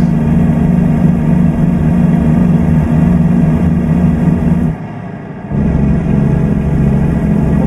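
The Cummins engine of a 600-horsepower Volvo VNL 670 truck in American Truck Simulator drones loudly at a steady idle-like hum, dipping briefly for about a second before resuming.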